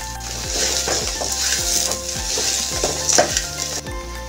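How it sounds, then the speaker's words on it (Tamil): Grated coconut, coriander, curry leaves and thuthuvalai sautéed in a pan for chutney, steady sizzling frying under rhythmic scrapes and stirs of a spoon against the pan, repeated roughly twice a second. "எல்லாத்தையும் சேர்த்து நல்லா வதக்கிக்கோங்க."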